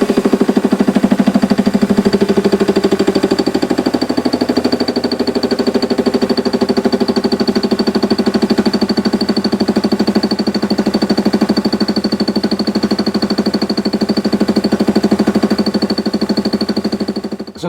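A metal lathe taking fine cuts of about half a mil per pass, a steady loud machine drone with a constant high whine running throughout, no voices.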